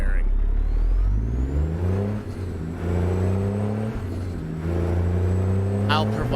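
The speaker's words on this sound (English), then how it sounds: "I love that engine. I love at the end of the rev, man. I love that popping, that backfiring." Freightliner FLC truck in American Truck Simulator, its engine revving up and down in repeated rising and falling sweeps with loud, close, sustained droning, and a brief burst of popping near the end.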